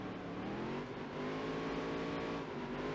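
A NASCAR race car engine in the video game NASCAR Dirt to Daytona drones and whines steadily at high revs, a continuous rising tone with other cars faintly around, no talk.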